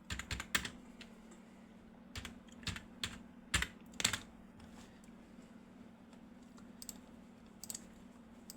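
Someone types a search on a computer keyboard: close, crisp key clicks come in short quick bursts with pauses between them, over a faint steady hum, and no one speaks.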